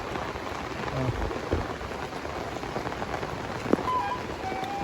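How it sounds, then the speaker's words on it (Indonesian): Heavy afternoon rain pouring down over a village, a steady close hiss of dense rainfall with scattered drips and a few sharp knocks and clinks breaking through. "Hujan lebat dari kemarin, nggak reda-reda sama sekali."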